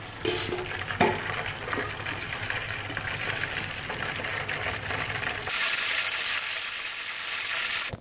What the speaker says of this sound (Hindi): अब मैं इसमें जो लहसुन काट के रखा हुआ था वो डाल के तड़का लगा लूंगी।